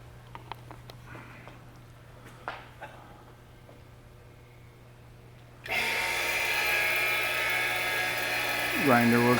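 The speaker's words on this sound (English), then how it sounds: "Grinder works pretty good." K.O. Lee universal cutter grinder in a workshop switching on partway through, a loud steady high whine with a hum that continues to the end, after quiet clicks and handling noises.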